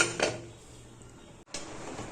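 Metal clatter of a pressure cooker lid being handled and closed while mutton gravy cooks, with a clink at the start and another clank after a brief pause, close and fairly quiet.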